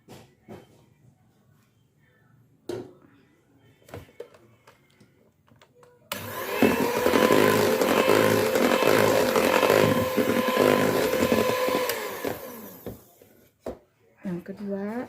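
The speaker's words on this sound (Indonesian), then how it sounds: "Kita mixer ya." An electric hand mixer beats cake batter for a traditional soft sponge cake, a loud steady whirring motor that starts abruptly and runs for about six seconds before stopping, with brief speech and small kitchen clatter before and after.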